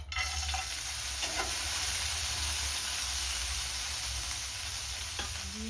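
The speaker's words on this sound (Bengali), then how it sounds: "কাজু কিশমিশটা ভেজে নেব।" Cashews and raisins fry in hot oil or ghee with a steady, even sizzle and a low background hum, the occasional faint stir or tap of a spoon, moderately quiet and unbroken.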